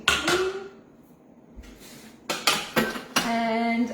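A clean mixing bowl grabbed and handled in a kitchen, with sharp clanks and ringing knocks as it is set down and moved, several close, distinct hits separated by a short quiet gap.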